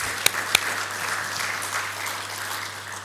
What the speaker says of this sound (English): So please do join me in a round of applause.